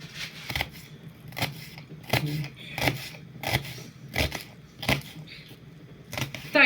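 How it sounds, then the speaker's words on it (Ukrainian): A knife chops onion into small cubes on a cutting board for a sardine Mimosa salad, a series of sharp, close knocks at an uneven, steady pace, with faint murmuring in between. "Цибулечку нарізаємо на кубики, тоненькі, ну, маленькими кубиками, невеликими."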